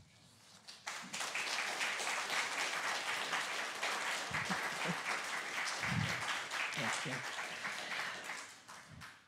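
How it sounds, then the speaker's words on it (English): A synagogue congregation at a Pride Shabbat service breaks into steady, rhythmic clapping in tempo, loud and sustained across the room, with a few brief spoken words and scattered voices over it. "We don't usually clap in tempo."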